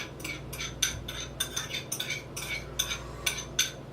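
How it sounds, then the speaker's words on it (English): A spoon ladles marinade over a piece of salmon, making a steady run of light metallic taps and wet scrapes about twice a second. The sounds are close but quiet, and no one speaks. "I'm just going to spoon this marinade right on top."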